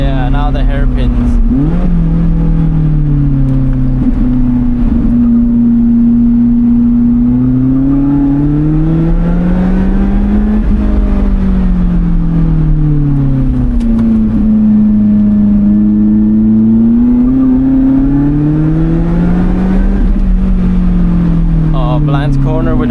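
A car in sport mode climbs a winding road through tight hairpin bends, its engine note rising and falling repeatedly as it accelerates out of each turn. The engine stays loud and close throughout.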